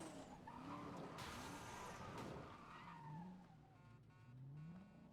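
Tires skid and squeal as a truck slides across the ground after a jump in a driving video game, a loud continuous engine roar with wavering screeches running throughout, no voices.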